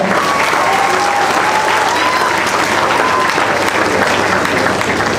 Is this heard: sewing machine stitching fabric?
no